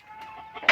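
A chicken on a poultry farm gives a short, near cluck and squawk, rising to a sharper call at the end of the brief moment.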